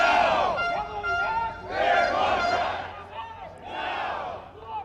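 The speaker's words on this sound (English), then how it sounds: "The chants from the locked out workers were loud and continuous as they marched around the base of Rogers Tower" Locked-out Rogers technicians chant at a protest march around the base of Rogers Tower in downtown Vancouver, a loud crowd repeating rhythmic shouted phrases in continuous waves.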